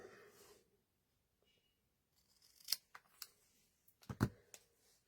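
Scissors trimming a piece of cardstock for a bandstand fancy fold card, a few short crisp snips and clicks close by in an otherwise quiet room.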